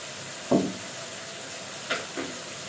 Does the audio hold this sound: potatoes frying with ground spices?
yes